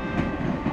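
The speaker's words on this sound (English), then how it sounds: "The same train rushing towards the holidays" Train rushing along in the video game Cookie Run Kingdom, a loud, steady rumble with rolling rail clatter filling a brief moment, no voices.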